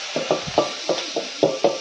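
Spoon stirring turmeric, chili powder and homemade red masala into a pot over a wood-fired chulha for a Konkani dish, a series of about eight close scraping strokes in an uneven rhythm over a steady background hiss.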